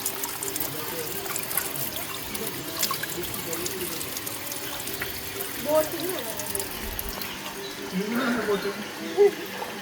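Water running steadily from a drinking water tap outdoors in Goa as mud is washed off after a mud bath, a soft continuous trickle and splash with background voices and ambient noise.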